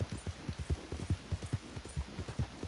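A horse gallops in the video game Red Dead Redemption 2, rapid rhythmic hoofbeats in quick paired thuds, close and moderately quiet, steady over a few seconds with no talk.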